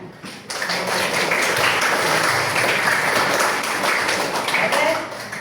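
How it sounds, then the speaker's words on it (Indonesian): A classroom of students clapping together in unison, a dense steady burst of applause lasting several seconds, close and loud, with voices mixed in beneath it. "tepuk tangan bersama-sama atas pembelajaran ini ya"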